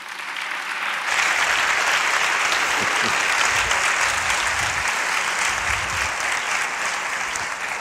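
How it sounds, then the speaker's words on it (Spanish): Audience in a Valladolid lecture hall breaking into strong applause after a short quiet lead-in, steady dense clapping filling the room and holding at full level to the end. "Un fuerte aplauso."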